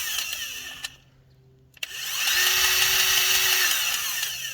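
Mechanical grinding and whirring from a hand-pumped grease gun that is empty or has lost its prime, with a brief quieter gap and a sharp click before the steady scraping resumes.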